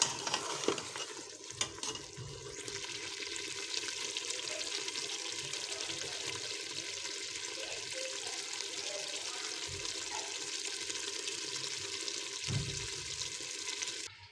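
Food frying and being stirred in a pan on a home stove, a steady hiss of sizzling oil with scraping and clinking of a utensil against the pan, plus a couple of louder knocks, close by and with no talking.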